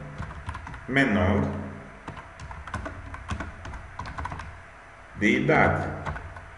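Rapid clicking of fingers typing on a computer keyboard, a steady patter of keystrokes running under a voice speaking in Portuguese.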